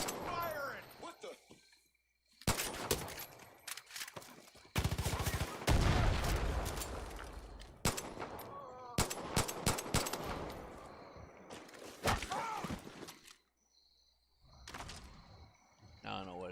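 Gunfire in Far Cry 5: rapid bursts of shots and sustained automatic fire crack out in dense clusters, broken by short pauses and mixed with mechanical clatter and other game effects.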